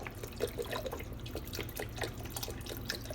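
A full 32-ounce carton of beef broth poured into a pot for Puerto Rican carne guisada, faint steady splashing and dripping liquid with small irregular plops.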